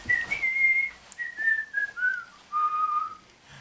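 A performer whistles a short, wavering tune in imitation of a fisherman humming while his float bobs, the melody sliding down in sustained notes with brief pauses, clear and close with no talk.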